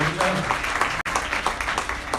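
A wedding audience applauds Lataji in a brief round of scattered clapping at moderate level, with a short break partway through and a voice talking faintly in the background.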